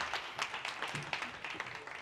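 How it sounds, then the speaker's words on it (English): Audience applause at an Aspen Institute event hosted by Meta, greeting Rob Sherman: a moderate, fairly distant patter of clapping hands with irregular bursts, steady for about two seconds without speech. "give him a round of applause"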